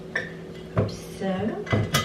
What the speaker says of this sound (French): Je vais juste le mettre dans le pot de sucre.